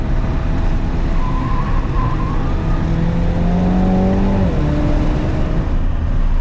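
A 2021 Mini Cooper John Cooper Works GP on a race track, its engine droning loud and constant with a rising tone as it accelerates, heard from inside the car with no talk.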